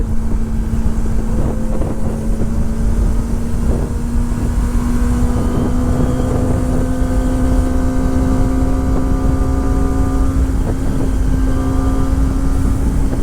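A Kawasaki ZX-25R motorcycle rides through countryside in Chichibu, Japan, its high-revving engine whine holding steady and rising slightly, accompanied by constant loud wind rush at the helmet, with no talking.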